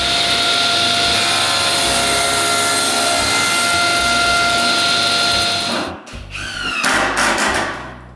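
A horizontal support on a workshop shelf unit is sawn off: a long, steady buzzing cut runs close and loud for about six seconds, then gives way to a few sharper, ragged bursts of sawing at the end.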